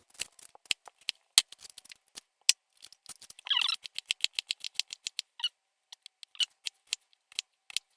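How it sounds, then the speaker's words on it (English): A knife cuts an onion on a board while a Greek village-style spinach pie is being made. Crisp chopping clicks come close and irregular, some isolated and some in quick runs, against near silence. "Cut the next onion."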